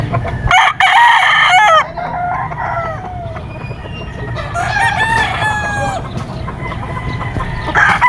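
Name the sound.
SBR straight comb gamefowl rooster crowing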